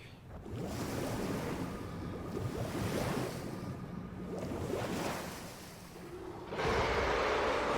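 Ocean waves around a small platform at sea in Final Fantasy XIV, rolling surf that swells and recedes several times with windy rushing, ending in a louder breaking surge.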